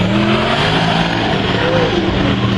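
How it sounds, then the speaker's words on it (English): Sprint race car hauling hard down the front straight, a loud, continuous engine roar with rising revs held close throughout, no talk over it. "well Blackburn's car just hauling along"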